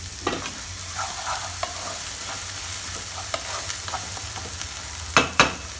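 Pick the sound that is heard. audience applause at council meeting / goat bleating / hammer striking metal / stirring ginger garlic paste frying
stirring ginger garlic paste frying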